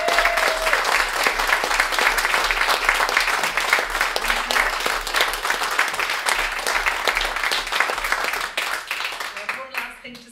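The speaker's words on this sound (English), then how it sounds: "Please give them a round of applause as we wish them well." Loud sustained applause and clapping from a concert crowd at the Wexford Arts Centre, filling the room evenly before tapering off at the end, with a few faint voices mixed in.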